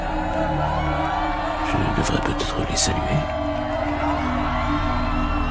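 Large crowd of thousands of workers cheering and applauding in a dramatized scene, a loud sustained roar with a swell of whoops in the middle, under a man's spoken line.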